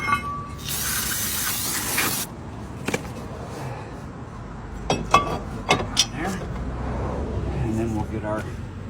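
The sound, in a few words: spraying cleaner on brake rotor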